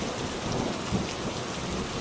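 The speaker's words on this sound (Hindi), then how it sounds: "बारिश शुरू हो गई।" Heavy village rainfall pours steadily with a low rumble of thunder underneath, a dense continuous hiss with no voices.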